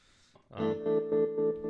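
An electric guitar chord rings through a tremolo pedal set for a straight, typical pulse, its volume throbbing in an even rhythm after a brief pluck.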